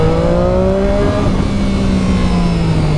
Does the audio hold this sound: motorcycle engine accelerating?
yes